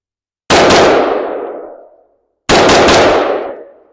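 Two loud, sharp rifle shots ring out about two seconds apart from an ATI AR-15 that cycles reliably. Each crack is close and is followed by a long ringing echo that trails off, with no talking.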